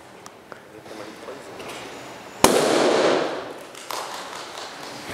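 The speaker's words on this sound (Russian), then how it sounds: "здесь есть колбочка с малым объемом гремучего газа, и мы ее аккуратно поднесем к пламени" A small flask of oxyhydrogen gas touched to a flame in a chemistry lecture gives a single sharp bang, followed by a brief burst of noisy decay, with faint room sounds before and after.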